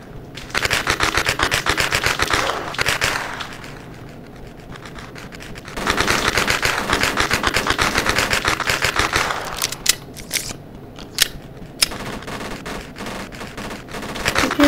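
Bursts of rapid automatic fire from a Bren machine gun in the video game Roblox, two long sustained volleys followed by scattered shorter shots, loud and close.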